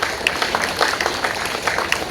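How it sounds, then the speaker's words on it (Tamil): A room full of people applauds for the press at a Tamil public talk. The clapping is dense and steady, filling the whole short moment. "பத்திரிகை நண்பர்களுக்கு கைத்தட்டல் கொடுங்க"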